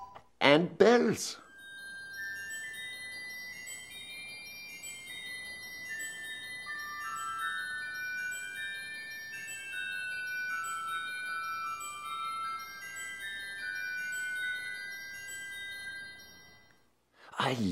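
A pipe organ's bell stop rings out bright, chiming tones in a slowly shifting melodic line, steady and moderately loud for about fifteen seconds, with short louder bursts of other sound at the start and end.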